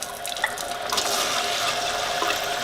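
Kangen water poured into a cup from a tap, a steady close hiss and splash of running liquid lasting throughout, with faint clinks and drips and no voices.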